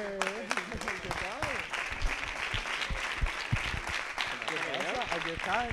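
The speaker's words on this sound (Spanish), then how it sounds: "Un aplauso para Alberto" A studio audience applauds to welcome a guest named Alberto on a Christmas-season TV program, a dense, continuous burst of clapping at steady volume with voices talking over it.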